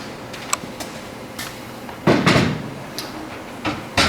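A metal access door being slid back onto an air handler unit, giving a few light clicks and then a louder scraping thud with rattling, close by and with no talk.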